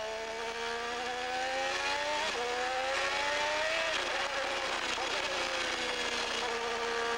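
A Formula 1 car at the 1987 Portuguese Grand Prix brakes and downshifts into second gear for a corner, then accelerates away, its engine note dropping and climbing again, loud and close, with faint commentary in the background.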